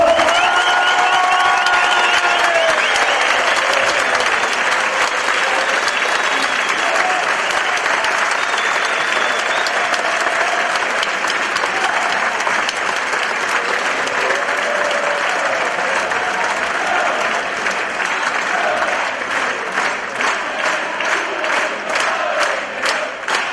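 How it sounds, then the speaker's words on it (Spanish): A large rally crowd in Mar del Plata applauds loudly and continuously, a dense, sustained wall of clapping with faint cheers mixed in, holding steady for the whole stretch. "¡Fuerte el aplauso!"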